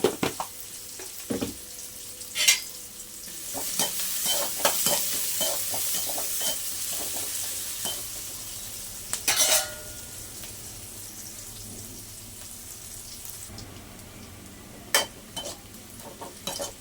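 Onions and tomato pieces stirred and sizzling in a frying pan, with steady frying hiss and scattered spoon scrapes and clinks against the pan, close and moderately loud.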